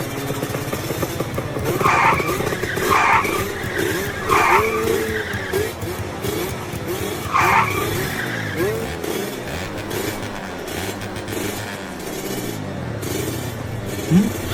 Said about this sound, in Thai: เสียงใครเบิร์นรถอะไรวะ